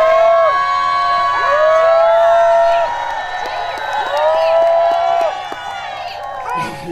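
Outdoor festival crowd at the Chuncheon makguksu and dakgalbi festival cheering, whooping and clapping for a singer on stage, loud and continuous, with shrill high voices and sustained shouts rising and falling.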